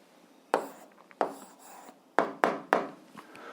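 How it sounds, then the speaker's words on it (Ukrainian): A pen writes an answer to an algebra exercise by hand on paper, giving several distinct scratchy strokes with short pauses between them, close and crisp with no talking. "а зараз записуємо відповідь, пишемо відповідь"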